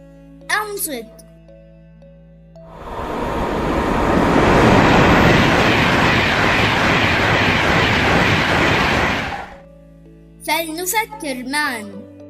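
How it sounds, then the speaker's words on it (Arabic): A high-speed train rushes past as a loud, broad roar that swells, holds for several seconds and then cuts away. A voice is heard briefly before and after the pass. "إنه قطار سريع."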